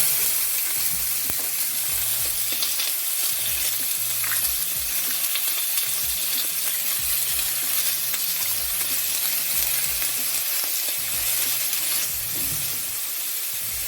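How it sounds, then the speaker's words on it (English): Beef strips sear in very hot oil with vindaloo spices, a loud, continuous sizzle up close, broken by repeated scraping and stirring knocks in an uneven rhythm; no one speaks. "My intention is to brown the meat on all sides and make sure that it's coated in that spice."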